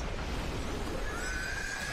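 A horse neighs in The Lord of the Rings: The Fellowship of the Ring during the river flood of water horses, a drawn-out whinny rising over a constant loud rush of water.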